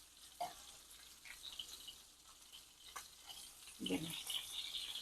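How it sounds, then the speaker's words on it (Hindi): Chicken pieces frying in a pan for butter garlic chicken, a faint steady sizzle with occasional soft utensil movements and a brief louder scrape near the end, no talk. "देखिए मैंने सारी चिकन पलट ली है और इसे मैं तकरीबन 15 मिनट तक मैं फ्राई करूँगी"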